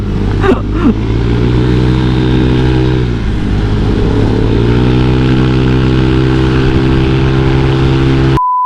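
A motorcycle with a CR63-spec engine runs loudly and close by, its steady engine drone rising in pitch as it accelerates, dipping briefly, then climbing again.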